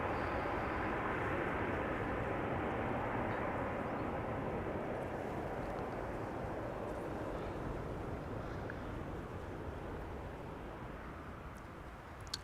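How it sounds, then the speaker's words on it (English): An Airbus A300 airliner arriving at Amsterdam Schiphol airport on a sunny day, a loud broad roar of jet engines that stays steady and then slowly fades toward the end, with no talk. "You can also see that the second A300 is arriving,"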